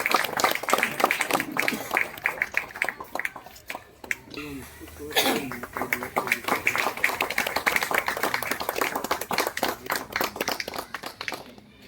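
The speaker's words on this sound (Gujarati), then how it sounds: "તાળીથી વધાવી" Audience applause at an open-air Gujarati poetry gathering by the sea at Nagwa, Diu, greeting a poet; scattered clapping builds into steady, fairly close applause with a brief lull midway, mixed with murmurs and a cough or two.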